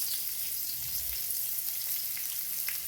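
Onion frying in a pan makes a soft, even sizzle with light crackling, continuous and fairly quiet throughout.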